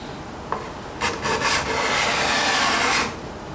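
A scraper with a medium V groove cuts curling wood shavings, giving a short tap followed by a few quick rasping strokes and then one longer, steady scrape, close and fairly loud with no talk.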